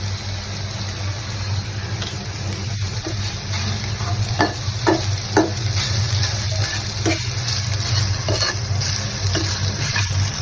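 Noodles with packet seasoning and a little salt are stirred in a pan, a steady frying hiss carrying scrapes and spatula taps at irregular intervals over a low hum.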